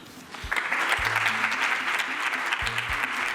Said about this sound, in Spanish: Aplauden los miembros del Ejecutivo.